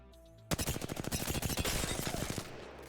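Hipfire gunshots in Apex Legends at close range, around six meters: after a short quiet lead-in, a loud, rapid automatic burst of roughly twenty shots fires over about two seconds, then trails off, with no talking.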